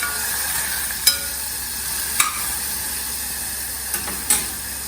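Grated tomatoes sauté in a pan for a Maharashtrian mung dal, giving a steady close hiss and sizzle with a few brief stirring clinks spaced across the clip.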